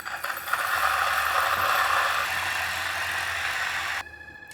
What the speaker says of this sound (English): I've got to say that the grinder is handling larger amounts of coffee grounds really well.